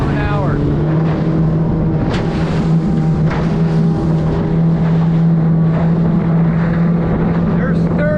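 A Fischer 1850 boat driven by a Yamaha F115 outboard cruises across the water, its engine holding a steady loud drone with wind buffeting and water rushing past, while people talk over it.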